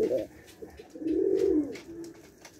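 Rajshahi Giribaj pigeons coo nearby in two distinct swelling bursts, a short one at first and a longer, louder one after a brief lull, heard alone without talk.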